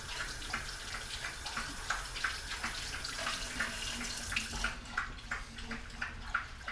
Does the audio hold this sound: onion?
no